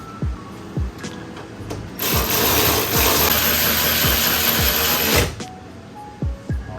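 Power tool tightening wheel lug nuts, with a loud sustained whir of about three seconds in the middle and repeated sharp clicks and clanks around it, close by.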